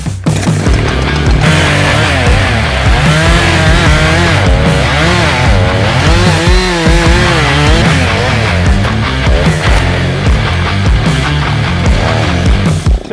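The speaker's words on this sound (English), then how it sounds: "So we're going to go ahead and do a Humboldt." A chainsaw cuts a Humboldt notch into a standing tree during felling, its engine loud and close, revving and bogging continuously under load for the whole stretch.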